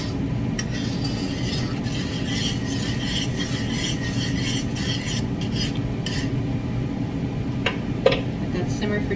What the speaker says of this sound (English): Let that simmer for just a second.